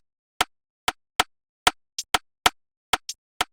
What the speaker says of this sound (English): And then I added a hi-hat that sounds like this.